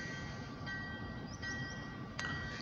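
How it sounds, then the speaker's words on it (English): A short grain hopper freight train led by an Alco locomotive rumbles steadily past with broadband rolling noise, steady metallic tones and a few faint squeals over it. "since this is a short grain hopper train"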